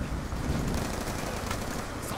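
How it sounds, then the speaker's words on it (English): Hip-fired gunfire in Black Ops 2 during a stormy match, heard as a dense, continuous rattle of automatic shots that is fairly faint and muffled. "Stop fucking hip firing"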